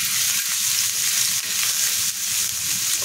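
Grated ginger and garlic sizzle and fry in hot oil in a pan on a gas stove, a steady, close, continuous crackling hiss with no pauses.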